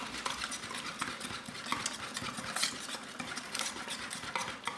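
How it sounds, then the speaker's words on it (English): A whisk beats a creamy horseradish sauce with salt and pepper in a bowl, a steady run of quick scraping, clinking strokes heard close up and alone, without talk. "take a whisk and just go ahead and whisk this up"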